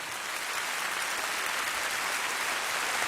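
Studio audience at a French TV cabaret show applauding as Isabelle Giordano is welcomed, a dense, continuous wash of clapping that holds steady throughout.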